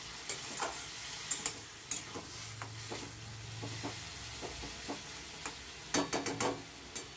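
Raw jackfruit curry stirred in a pan, a spoon scraping and knocking in scattered strokes over a low simmering sizzle, with a quick cluster of clacks near the end; close and fairly quiet, no talk.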